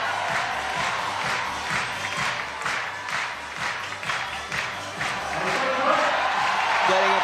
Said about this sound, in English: Getting a big round of applause.